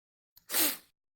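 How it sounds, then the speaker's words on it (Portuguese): A stifled, nearly suppressed sneeze: a faint catch of breath, then one brief, breathy, muffled burst close to the microphone, with nothing else around it. "Peraí, quase espirrei."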